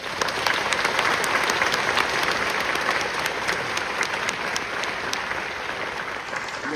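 An audience at a scholarship award event applauds the winners, a dense, sustained wash of many hands clapping at steady loudness from start to finish, with no speech over it.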